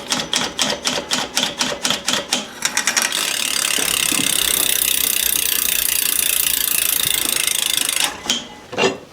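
A brake cable is tightened on a Fuji Tahoe mountain bike, first a run of evenly spaced sharp ratcheting clicks, then a sustained loud mechanical whir, ending with a few more clicks.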